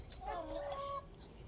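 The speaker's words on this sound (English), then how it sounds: "They're always very noisy when I'm around because they want attention." A single hen vocalizes briefly in a backyard chicken run, a drawn-out nasal cluck lasting about a second, fairly faint, over a low background murmur.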